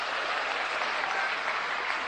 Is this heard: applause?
yes